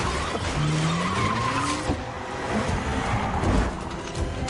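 A movie car speeds hard and skids, its tires squealing in rising and falling tones over a dense, loud engine and road roar throughout.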